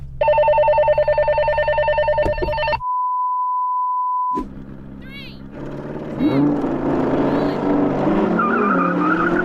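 A Porsche Cayenne Turbo GT and an Audi R8 launch side by side in a drag race, loud engines roaring and revving hard with tyre noise, after a brief steady electronic tone.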